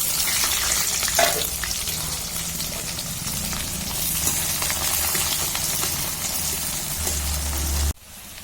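Chopped onions fry in a pan over a wood-fired clay stove, with bay leaf, a steady loud sizzle and crackle running throughout with occasional stirring, cutting off abruptly near the end.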